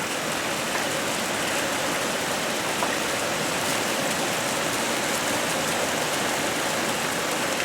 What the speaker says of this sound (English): it's been raining for a good 20 minutes now, just like this.